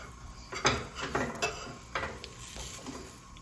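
A pupusa, Salvadoran street food, is turned over in a hot pan: a few close metallic clanks and scrapes of a spatula against the pan, with a faint sizzle underneath and no talk.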